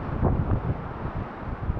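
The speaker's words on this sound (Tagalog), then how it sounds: "napakalakas ng hangin" Strong wind gusting steadily at a campsite, a dense low roar with buffeting surges, loudest early on and continuing without a break.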